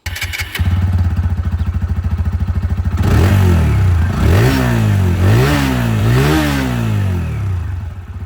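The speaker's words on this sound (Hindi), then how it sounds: "बाकी ये था साउंड ऑफ अपाचे 162V।" A TVS Apache RTR 160 2V motorcycle engine idles with a steady, loud throb, then revs up in several sharp rising bursts, close and alone.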